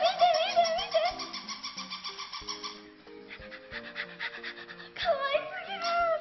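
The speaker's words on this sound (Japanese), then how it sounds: "この鳴き声、犬かな" A dog whimpering and panting, high wavering whines and quick breathy pants sounding continuously and fairly loud, with a brief drop in the middle before the whining returns.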